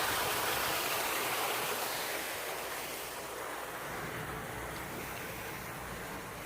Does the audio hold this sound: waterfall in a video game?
yes